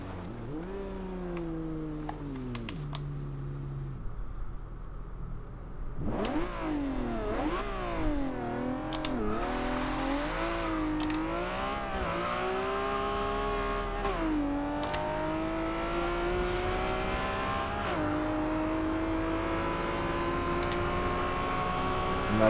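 A 2010 Aston Martin One-77 in the game Forza Horizon 2 accelerating hard, engine tone sweeping up through repeated gear changes, each shift dropping the pitch before the loud, close whine climbs again.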